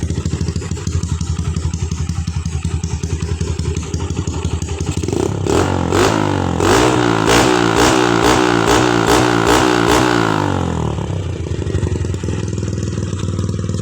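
A motorcycle with an aftermarket exhaust idles steadily and close, then blips through several sharp revs in quick succession before dropping back to a smooth idle.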